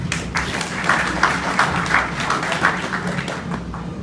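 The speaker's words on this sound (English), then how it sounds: "Let's give a bigger round of applause," Audience applause at a government census results presentation, scattered claps forming a moderate, uneven patter in a reverberant hall, with a low hum underneath.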